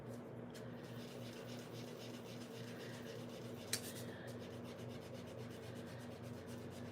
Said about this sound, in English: These domed foam blending tools are the best.